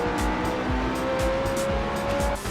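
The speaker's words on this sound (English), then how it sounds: "Sports cars sound majestic, muscle cars roar, and supercars are like ASMR to my ears." Sports, muscle and supercar engines in the racing game Forza Horizon rev and roar close up in repeated bursts, with tire squeal and a steady whine running underneath, and no talking.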